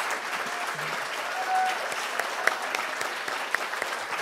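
An audience at a candidate debate in a women's club hall gives steady applause, with dense clapping and a few sharper claps standing out over the roughly four seconds.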